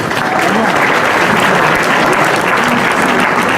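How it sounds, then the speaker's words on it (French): Loud, sustained applause from a large audience at a French public debate event, a thick continuous wash of clapping holding steady throughout with a faint murmur of voices mixed in. "Applaudissements, mesdames et messieurs."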